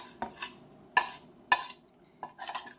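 A spoon or utensil works through a meatball mixture with spices in a bowl, giving a handful of short, close scraping and clinking strokes with quiet gaps between.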